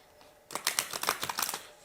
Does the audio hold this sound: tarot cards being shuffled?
yes